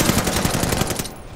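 Rapid automatic gunfire rattles in a dense, loud burst in the Call of Duty: Vanguard campaign, with close, continuous shots during a train infiltration mission, ending in a sudden cutoff.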